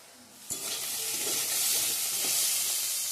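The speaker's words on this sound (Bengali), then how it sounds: "শুকনো হলে ভাজা ভাজা করব।" Radish greens fry in a wok with a loud, steady sizzle, close by. A scrape of stirring starts it, and more stirring follows as the hiss builds and holds.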